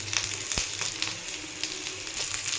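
Peanuts, garlic, curry leaves, shallots, ginger and a spoon of coconut fry in oil for an elephant-foot eggplant masala, making a constant close sizzle with a few sharp pops and light stirring clicks.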